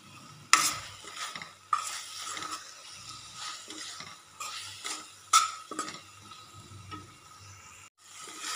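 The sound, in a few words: stirring tomato and chili in a pan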